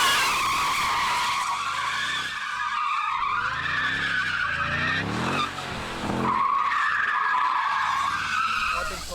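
Car tyres squeal and scrub in long wavering skids on a skid pan during a performance car test, engine revving beneath, loud and sustained throughout.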